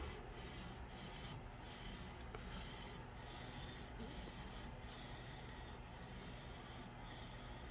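A TOPS Wild Pig Hunter knife edge is sharpened on a Tsprof K03 guided sharpener with a back-and-forth scrubbing motion, giving soft, steady rasping strokes repeated at a regular rhythm, close and quiet, with no talking.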